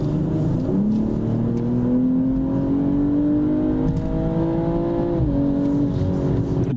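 BMW 240 accelerating with its exhaust note climbing steadily in pitch, dropping briefly at a shift and then rising again; a smooth, continuous, close engine drone with no talking.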